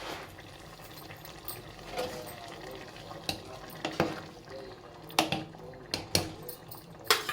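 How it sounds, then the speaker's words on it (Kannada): Ridge gourd frying in oil in a pan, a soft steady sizzle under repeated sharp clinks and scrapes of a utensil stirring against the metal, the knocks growing more frequent toward the end. "ಎಣ್ಣೆ ಒಳಗೆ ಚೆಂದಾಗ ಹೀರೆಕಾಯಿ ಬೇಯಲಿ"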